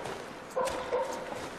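A wolf in The Long Dark gives two short yipping barks, moderately distant, over a steady windy outdoor hiss.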